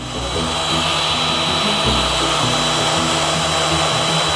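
A sign-cutting machine routs through aluminum in a sign shop, giving a loud, steady high-pitched whine with a low motor hum beneath, running unbroken throughout.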